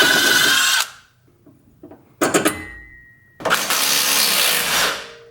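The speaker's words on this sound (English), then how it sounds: "we're gonna go ahead and pop the 13 mil nut and bolt out of our sway bar link" Power tool zipping the 13 mm nut and bolt out of a sway bar link on a BMW E36 during a coilover install, three loud close bursts separated by short pauses.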